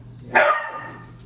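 A single sharp dog bark rings out close by, brief and loud, then fades into quiet room tone.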